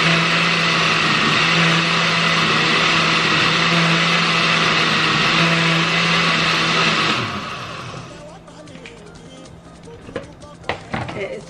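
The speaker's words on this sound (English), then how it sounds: "and I'm gonna blend the whole thing." A kitchen blender whirs loudly and steadily, blending tomato, scotch pepper and onions for about seven seconds before shutting off, followed by quieter clatter and handling sounds.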